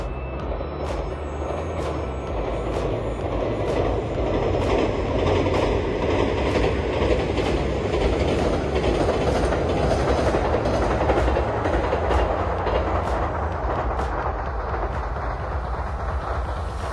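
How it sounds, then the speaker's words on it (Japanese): A JR Series 2000 diesel limited express train on the Nanpu service rolls past close by, a loud continuous engine rumble and wheel roar with rhythmic clicks of the rail joints running steadily throughout. "そして本日の主役2000系気動車もやってまいりました"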